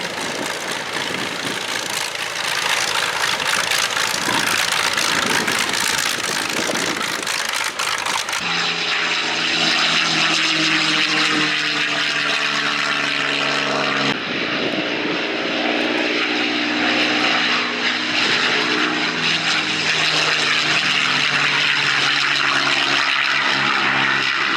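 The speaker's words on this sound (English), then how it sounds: "And here they are on the roll." Propeller-driven warbirds, P-51s and Corsairs, roll for takeoff at the Duxford Battle of Britain airshow, their piston engines droning loud and steady with shifting pitch throughout, and no voices.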